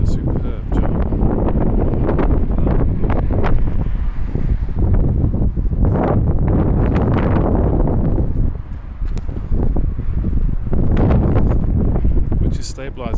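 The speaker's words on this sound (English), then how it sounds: "And over here, God, wind." Heavy wind buffeting the microphones of an iQOO 9 Pro and a Pixel 6 Pro phone outdoors, a loud continuous rumbling roar with gusts, under a voice.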